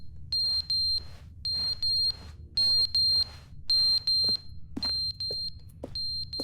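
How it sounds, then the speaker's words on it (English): A smoke alarm in the video game The Stanley Parable Ultra Deluxe chirps in repeated pairs of high, shrill beeps, steady and insistent, with faint background hum. "Oh, it's a smoke alarm."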